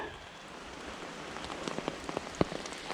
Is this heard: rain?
yes